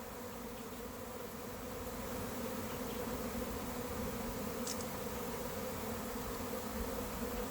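A honey bee swarm gathered in a bait box drones with a dense, continuous buzzing hum that holds steady and loud throughout, with no voices over it.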